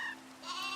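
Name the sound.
sheep bleating in Cobblemon Minecraft video game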